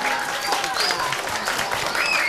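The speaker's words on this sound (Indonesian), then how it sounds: "Berikan tepuk tangan untuk Mbok" A talk-show audience breaks into warm applause, a continuous wash of many hands clapping at an even level for a couple of seconds, with a few faint voices mixed in.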